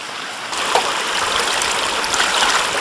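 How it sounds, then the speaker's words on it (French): A pot is dipped into a rushing mountain stream on a Canadian Arctic expedition, the close, steady wash of flowing water swelling slightly as it goes under, with no talk. "J'aime bien quand il y a faire plonger la casserole dans un ruisseau de montagne"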